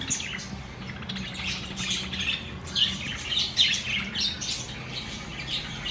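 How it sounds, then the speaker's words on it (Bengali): Pet birds in a bird house chirp and tweet continuously, many small overlapping calls at close range with a few louder squawks, no talking. "এই যে হচ্ছে আমাদের পাখি"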